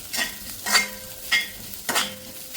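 Curry leaves and chopped onion fry in a pan for parippu, with soft sizzling under four separate stirring scrapes of a spoon against the pan, close and distinct.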